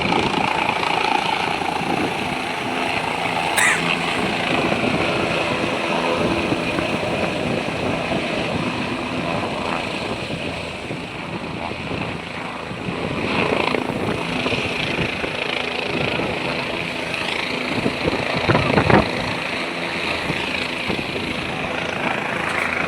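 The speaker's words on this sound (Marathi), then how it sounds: "तिसरं हेलिकॉप्टर आले," A helicopter flies over Kedarnath in cold mountain weather, its rotor and engine making a steady, moderately loud drone that swells slightly partway through, with faint voices in the background.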